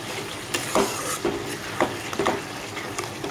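Potatoes being sautéed with biryani masala in a pan for a Bengali veg biryani, a steady soft sizzle with several scraping stirs of a spoon against the pan, close and moderately loud.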